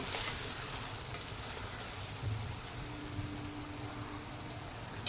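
Ridge gourd cooks in oil with a faint, steady sizzle and soft crackle that runs unbroken throughout.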